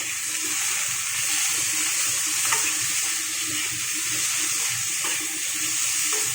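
Chicken cooks in a pan with ginger garlic paste, chopped tomato and salt, giving a steady, even sizzle that runs without a break while it is stirred now and then. No one speaks.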